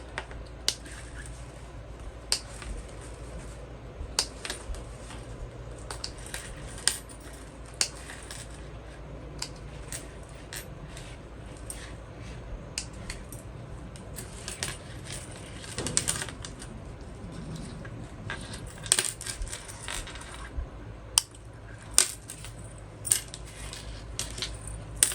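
Scissors snipping thread ends and fabric edges while sewing a fold-over crossbody bag, a steady run of small sharp clicks and snips close by, with a few louder cuts near the end and no talk.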